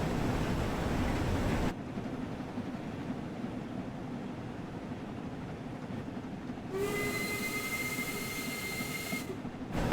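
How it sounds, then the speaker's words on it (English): The steam locomotive whistle in Train Sim World 6 on the West Coast Main Line sounds as one long, steady, tonal blast over continuous hiss and rolling rail noise. "There we go. I like the whistle."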